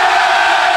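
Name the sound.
crowd cheering at England rugby show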